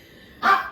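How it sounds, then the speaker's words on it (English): Dogs give a single short, fairly distant bark in a quiet kitchen, brief and alone with no voices. "sorry about the dogs barking"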